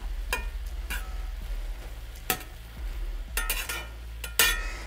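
Pieces of pork tenderloin frying in a pan and pushed around with a utensil: a low sizzle broken by several sharp scraping clatters at irregular intervals, close by with no talking.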